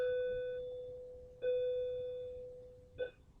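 A bell sounds in a classroom setting, three separate rings: a long sustained tone that slowly decays, a second strike repeating it, then a short final clang, all fairly quiet with no talking.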